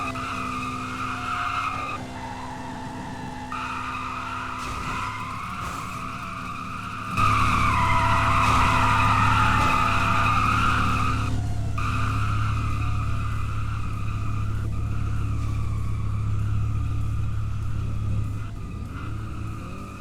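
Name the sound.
car drifting with tires skidding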